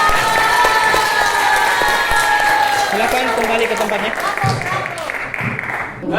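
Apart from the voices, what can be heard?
audience applauding a student group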